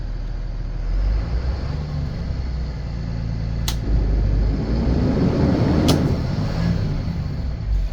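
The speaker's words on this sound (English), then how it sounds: "But here, I'll kind of rev it up a little bit." A Thomas Saf-T-Liner C2 school bus engine runs with a low rumble, then is revved in a couple of louder surges, with brief sharp clicks along the way.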